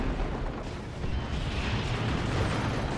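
Plasma cannon fire in Dawn of War 2 booms in heavy, continuous bursts and explosions, loud and close, with a dense rumbling battle din throughout.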